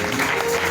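Church congregation applauding and cheering during a Thursday worship service, a dense, steady wash of clapping and crowd noise filling a short burst.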